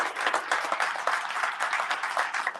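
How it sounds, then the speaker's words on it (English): A round of applause from the audience at the opening ceremonies of the 2023 Autumn Open, a continuous patter of many hands clapping at moderate distance with no voices on top. "let's have a huge round of applause for Maria"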